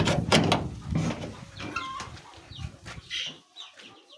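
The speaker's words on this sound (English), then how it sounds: "So this is where we keep our small chicks" Small chicks in a poultry pen make bright, high chirps. Several overlap in quick irregular bursts over a muffled, rustling background and fade toward the end.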